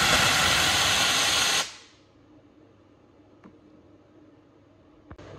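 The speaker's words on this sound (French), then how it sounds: "Il y a plus de débit de vapeur." A powerful steam generator nozzle blasts a loud, dense hiss of steam for about a second and a half, then cuts off abruptly, leaving a quiet room with a couple of faint clicks.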